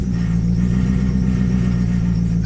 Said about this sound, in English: A little bit of noise there, squeaking belts, misfiring